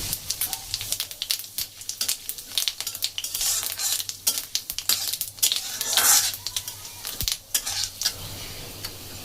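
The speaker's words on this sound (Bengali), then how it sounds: "শুকনো লঙ্কা একটা ফাটিয়ে দিলাম মাঝখানে" Dried red chilli and cumin seeds sizzle and crackle steadily in hot oil in a pan, with sharp pops and spoon scrapes against the pan throughout, loud and close, without any talking.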